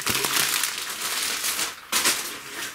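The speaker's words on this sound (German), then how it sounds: "Am Anfang ist hier erstmal ein bisschen Füllmaterial, damit die Sachen im Karton nicht so hin und her fallen" Packing filler material rustles and crinkles inside a cardboard parcel box, with dense close crackling that continues throughout and a sharp renewed crunch near the end, without any talking.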